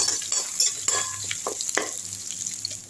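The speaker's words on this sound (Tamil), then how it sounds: "இஞ்சி பூண்டு இந்த மாதிரி தட்டி போட்டுக்கோங்க, அரைக்காமல் வதக்கி விட்டுடலாம்." Crushed ginger and garlic sauté in a hot pan, a steady close sizzle broken by several scraping stirs of a spatula, with no talking.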